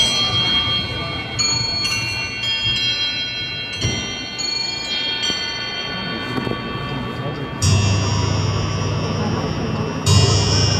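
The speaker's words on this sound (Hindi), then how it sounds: "उस खिलौने को देखा जो 12 घंटियां बजाकर चला गया" A musical clock toy at the Salar Jung Museum in Hyderabad chimes twelve times at noon, with bright, ringing bell strikes in an irregular series over a steady crowd murmur and some distant talk.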